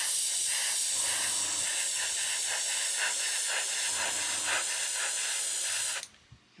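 An aerosol can of chrome paint sprays another coat onto a plastic model in a steady, close, loud hiss lasting about six seconds before it cuts off abruptly.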